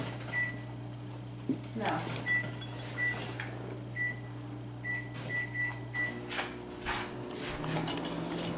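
A microwave oven defrosts food with a low steady hum, several short beeps and clatter of dishes and cupboards, while people talk quietly nearby.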